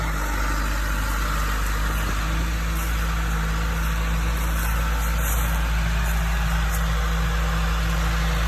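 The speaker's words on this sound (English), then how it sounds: "John Deere 310D." John Deere 310D backhoe engine running steadily at a homestead land clearing, a constant low droning hum with a sustained tone, close and unchanging, without talk.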